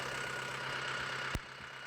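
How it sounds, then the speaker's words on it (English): Yanmar YM3 series tractor engine idling steadily with a low, even drone and a faint higher whine, broken by one brief sharp knock near the end. "Start the engine and run it at idle."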